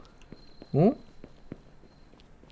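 Sparse, crisp footsteps of heeled shoes tap at a slow walking pace in the video game Akai Onna, fairly faint, while a single brief spoken exclamation cuts in early.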